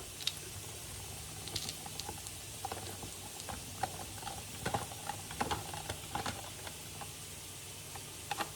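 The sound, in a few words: rotary grater grating cheese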